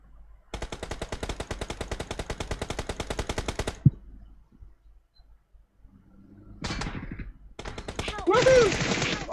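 Sustained machine gun spray fire in PUBG Mobile, a rapid even burst of shots lasting a few seconds, followed by a pause and then shorter bursts, with game sound effects and a voice talking near the end.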